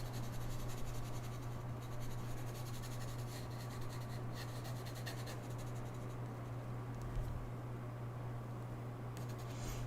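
Soft, continuous scratching of a colored pencil sketching on paper, faint and close, a light rubbing texture under a steady low hum.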